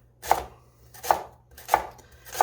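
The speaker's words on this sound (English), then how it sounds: "you can tell how easy it is to cut up" A knife chopping rhubarb into small pieces for a pie: four crisp, evenly spaced cuts, close and alone with no talking.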